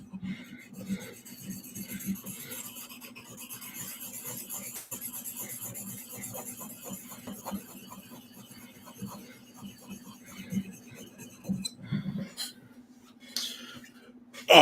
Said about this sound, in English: I rubbed the scraper on the stone.